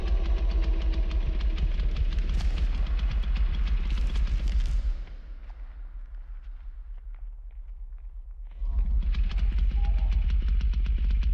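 Engine-like chainsaw revving in the Texas Chain Saw survival video game, a loud, steady motor drone that drops away in the middle and then returns at full strength.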